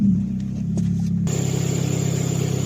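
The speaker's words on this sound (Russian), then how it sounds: "Холодный пуск." Car engine after a hydraulic lifter repair, cold-started and settling into a steady idle, with a low, even rumble and no lifter ticking.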